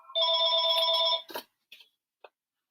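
A telephone rings once with a bright, steady electronic trill lasting about a second, close and fairly loud, followed by a few faint clicks and rustles in otherwise quiet surroundings.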